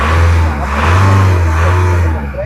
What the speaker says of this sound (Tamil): நான் டீசல் வண்டி ஆன் பண்ணி காட்டுறேன்